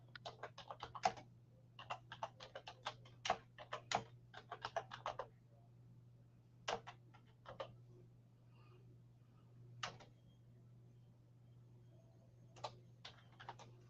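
Typing on a computer keyboard, bursts of quick close key clicks separated by pauses and a few isolated taps, with a steady low hum underneath and no talking.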